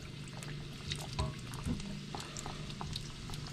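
Youtiao dough, Chinese crullers, frying in hot oil: a soft, steady sizzle and bubbling at low level, with a few brief pops and gurgles as the dough drops in, no talking.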